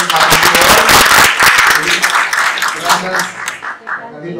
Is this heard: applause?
yes